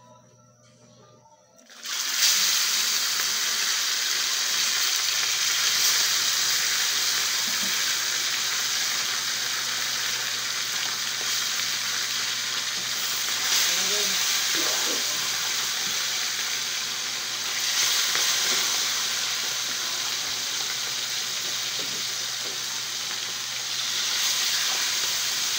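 Food fries steadily in a hot pan, a loud, continuous sizzle and hiss that starts abruptly and continues without a break.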